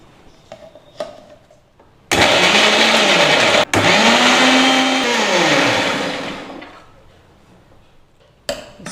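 A kitchen mixer grinder whirs loudly as it blends tomato, green chili, ginger, coriander and mint, running in two bursts with a brief stutter between, its pitch dipping and rising, then winding down.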